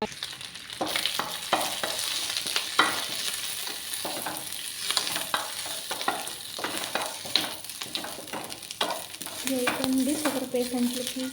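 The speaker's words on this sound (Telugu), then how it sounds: "మంచిగా సిమ్లో పెట్టుకొని బాగా వేయించుకోవాలి." Drumstick leaves and curry leaves frying on a low flame, a steady soft sizzle broken by repeated clinks and scrapes of stirring, with a rising bubbling hiss near the end.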